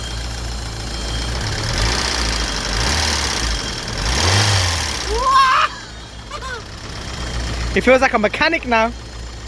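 A BMW E30 fitted with a swapped M52 engine runs with a low, steady idle rumble that drops away midway, as people talk over it and afterward.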